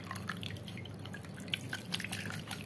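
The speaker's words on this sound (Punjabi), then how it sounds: "ਪਾ ਦਿਓ ਸਾਰਾ ਪਾਣੀ ਪਾ ਦਿਓ" Water poured while making paneer at home on a dairy farm, a steady quiet splashing and dripping stream close by with scattered drips, no voices over it.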